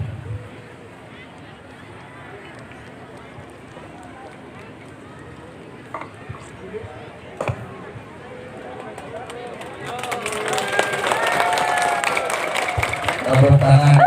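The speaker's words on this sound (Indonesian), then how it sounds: "Tepuk tangan yang meriah." An audience at a Hari Santri Nasional 2022 ceremony launching a vehicle in Patimuan, Cilacap, breaks into loud applause that swells over the last few seconds after a quieter stretch of amplified speech and crowd murmur.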